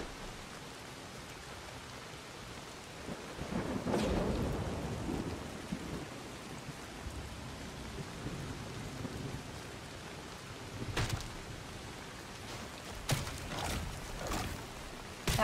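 Steady rain falls during a thunderstorm in the survival video game Soulmask, a soft continuous hiss with a low thunder rumble swelling early and several sharper cracks near the end, heard without talk.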